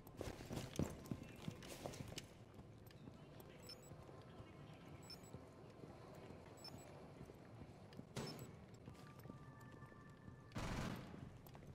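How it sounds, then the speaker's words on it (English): Gunfire in Rainbow Six Siege arrives as a cluster of rapid shots early on, then isolated sharp bursts later, under quiet game ambience with voices talking. "Where the fuck did that shot come from?"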